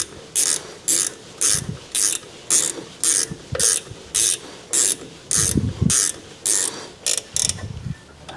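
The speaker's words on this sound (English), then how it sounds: "I need to get me a wrench to put on here" Ratchet wrench turning the rear brake bolts on a Ford F150 during a brake repair, a loud close run of steady clicking bursts with short pauses between strokes.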